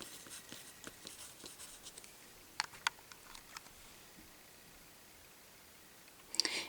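A pen writes out a chemistry answer on paper, giving faint, close scratching strokes with a few sharper taps and a brief louder rustle near the end, in a quiet room.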